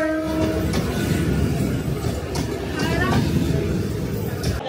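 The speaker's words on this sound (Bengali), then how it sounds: "আমাদের ট্রেন পার করে গেল কড়েয়া কদমগাছি স্টেশনে।" A moving train passing a station on a suburban line near Kolkata, with a steady rumble and rattle, a brief horn tone near the start and a voice briefly audible.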